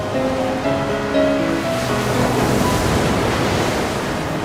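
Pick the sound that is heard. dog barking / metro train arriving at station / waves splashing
waves splashing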